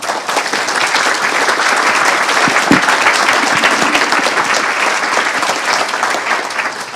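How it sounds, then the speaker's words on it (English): At an evening talk on AI and transportation, an audience applauds the panelists with a full, steady roar of clapping that swells and then holds near the front. "A round of applause for them, please."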